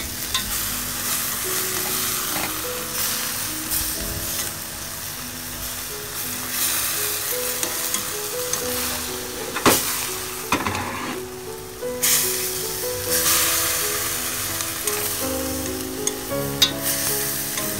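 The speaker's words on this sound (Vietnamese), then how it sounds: "Sau khi mà xào cần xong rồi mình cho cá vào nha" Fish pieces are stir-fried with celery in a pan, with steady frying sizzle under repeated clattering stirs and scrapes of a utensil against the pan throughout.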